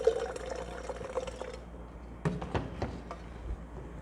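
Freshly boiled, still-steaming water poured into a gooseneck kettle for brewing coffee, quiet intermittent splashing and gurgling with a few sharper drips and clinks toward the end.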